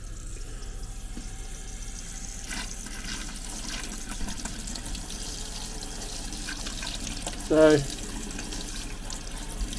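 A hot water tap runs in a steady, quiet stream for the whole stretch, a low wash of water under a faint room hum, with one brief word spoken partway through.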